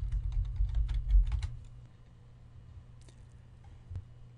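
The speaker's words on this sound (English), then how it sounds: "In the address bar, type in casatunes.com/downloads." Keystrokes on a computer keyboard typing a web address into a browser address bar, a quick run of clicky taps for about a second and a half, then a few isolated faint key presses over a low background hum.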